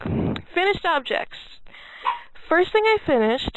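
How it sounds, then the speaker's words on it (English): A dog yelps and whimpers in high, rising cries in short bursts, up close indoors, mixed in with a person talking. "And I apologize for the dog."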